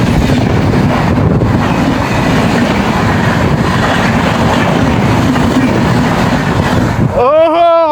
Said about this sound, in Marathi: 22119 तेजस एक्सप्रेस. ते बघा आली, फायनली आली बघा.